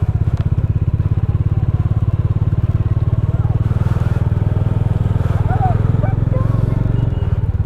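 A motorbike engine labours loudly and continuously as it tries to push through snow on a Spiti Valley winter road between Kufri and Jeori, a steady rumbling drone with scattered crunches and clatters and voices faintly underneath.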